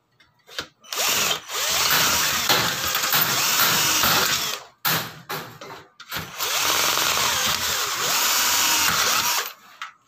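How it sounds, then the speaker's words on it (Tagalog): A power drill fitted with a 1/8 bit bores into the crossbar of an SF screen door, whirring loudly in two long runs broken by short stops and stutters, close and with no voices. "Bubutasan natin ito using our drill bit na 1/8"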